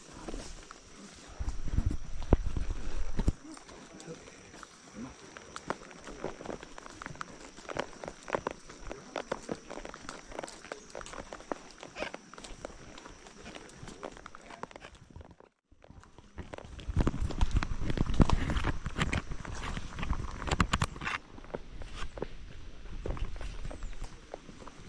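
Horse hooves clip-clop during horseback riding, a steady series of nearby hoof falls throughout, louder in bursts near the start and again after a brief pause midway.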